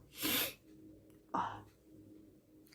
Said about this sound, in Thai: ขออภัยนะคะที่ต้องสูดจมูกแรงๆเนาะ